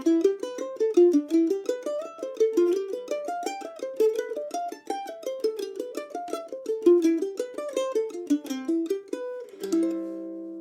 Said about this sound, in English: one of my favourite and nerdiest arpeggio exercises that sounds a bit like this